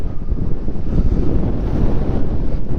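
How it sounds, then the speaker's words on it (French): Heavy wind buffets a microphone outdoors on a plain, a loud continuous low rumble that fills the whole stretch without any voice. "J'essaye de cacher un peu parce qu'il y a du vent"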